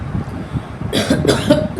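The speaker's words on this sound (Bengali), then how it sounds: "কাশিও হচ্ছে, বেশিক্ষণ কথা বললেই কাশি হচ্ছে" A person with a sore, unwell throat gives a quick series of about three harsh coughs close to the microphone after a brief quiet moment.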